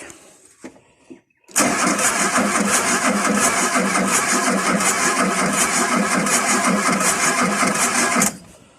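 A car engine cranks over continuously for about seven seconds without catching, giving a loud, steady rhythmic churning of the starter motor that then stops abruptly, preceded by a few faint clicks.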